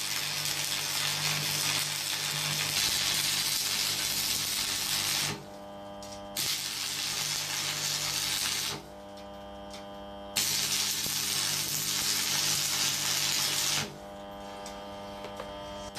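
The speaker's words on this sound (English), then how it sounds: "the object of this video is just to try and teach you how to strike an arc" Stick welder striking and holding an arc, a steady loud crackling hiss that runs in long bursts with short pauses between, two quieter gaps where the arc stops, no talking.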